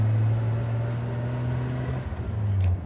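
An old car with no mirrors, recently given a clutch adjustment, rolls along a road on a scrap run. A steady low engine drone holds close and loud, then dips and stutters briefly near the end as the motor note shifts.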